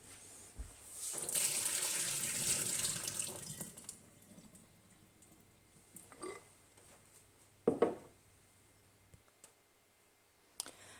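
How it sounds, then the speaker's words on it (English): Water being drained off almonds soaked overnight, a sink-like splashing pour for a couple of seconds followed by quiet drips, light clicks and a few sharp knocks, close by. "I've had these almonds in water soaking overnight. Beautiful. So now I'm going to drain them."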